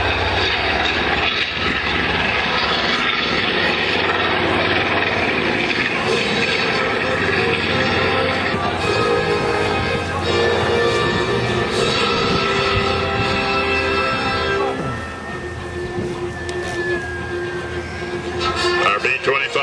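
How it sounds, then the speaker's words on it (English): A B-25 bomber roars through its takeoff roll at an airshow, then a C-47 transport follows, a long continuous loud radial-engine drone with shifting tones and a faint whine near the end. "Our B-25 on takeoff roll, followed by the C-47 transport."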